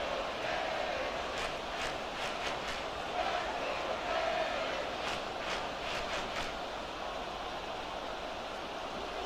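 A stadium crowd in Madden 24 roars in a broad, sustained wash of cheering that swells in short surges, steady and moderately loud throughout.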